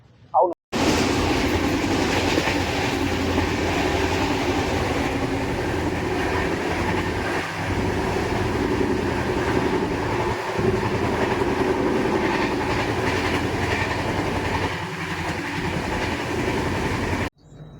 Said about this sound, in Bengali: আমাদেরটা একটু একটু করে স্পিড বাড়ছে ট্রেনের